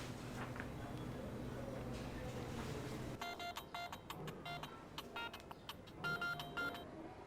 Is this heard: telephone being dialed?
yes